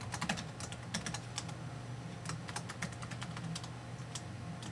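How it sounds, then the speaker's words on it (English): Steady clicking of keys on a computer keyboard, typed while entering a DD-WRT router username and password; quick irregular keystrokes close up over a low background hum, with no talking. "Hopefully I don't mess my typing up"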